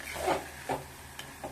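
Spinach thoran with salt and no added water is stirred in a pan. Three soft, brief scrapes and rustles come quietly and alone, spaced a little apart.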